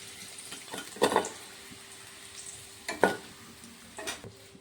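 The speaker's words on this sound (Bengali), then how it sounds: "আলু ভেজে নিচ্ছি" Potatoes frying in a pan give a faint, low sizzle broken by a few sharp spatula stirs and scrapes, heard alone without talk.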